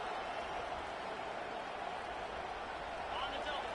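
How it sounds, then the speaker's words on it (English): Dense, steady roar from a football stadium crowd, broad and continuous with no breaks for the whole few seconds, with a voice barely audible underneath. "This crowd bringing the energy and noise early"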